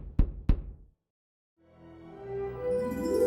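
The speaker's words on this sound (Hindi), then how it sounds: "हैग्रिड ने अपने बड़े हाथों की मुट्ठी करते हुए उन बड़े से दरवाजों पर 3 बार नॉक किया।" Two heavy, sharp knocks on a big castle door ring out close and loud, then stop, followed after a pause by a swelling tonal drone.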